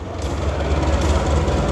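Steady low rumble of the Ranggajati business-class passenger train rolling on rails in Indonesia, heard from inside the carriage, continuous and fairly loud with faint rattling over the running noise.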